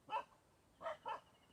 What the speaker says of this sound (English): I'm being interrupted by a couple of village dogs that don't like me being here